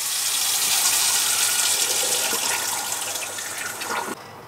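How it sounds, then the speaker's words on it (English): Water gushing from an opened tap aboard a sailing boat, a loud continuous hissing rush that carries on steadily and then stops abruptly, with no talking. "And to do that, you just open the tap."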